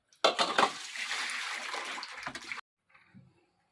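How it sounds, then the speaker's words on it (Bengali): Cut prawns being rinsed in water, a close, splashy gush of running water for about two seconds that stops abruptly, followed by a faint trickle. "চিংড়ি মাছটা ভালো করে ধুয়ে নিয়েছি।"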